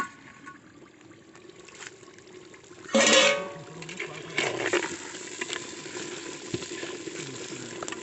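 Garlic cloves frying in oil in a clay pot while desi chicken is being made. A sudden hissing burst breaks out a few seconds in, then settles into a steady, moderate sizzle with faint scraping, and no one speaks.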